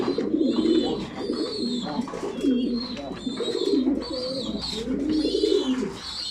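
A male pigeon coos in repeated low, throaty rolls close by, several bursts in a row over faint background noise.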